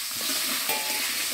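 Potato and cauliflower fry in a pan with a steady, close sizzle and a brief stirring scrape partway through, no talking heard.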